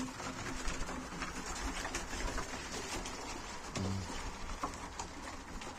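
Young pigeons in a loft make soft, scattered cooing and shuffling sounds over a steady background patter, with a low throaty coo near the end.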